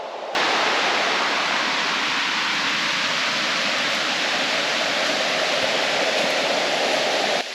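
Steady, loud rush of a waterfall on the Fiery Gizzard Trail in Fiery Gizzard State Park, a broad continuous roar of falling water that holds evenly throughout.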